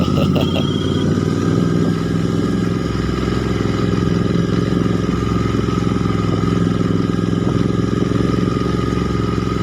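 A motorcycle ridden on a road in India, its engine running steadily and loudly close by for the whole stretch, with a mid-pitched drone and clattery mechanical texture, plus a faint brief tone near the start.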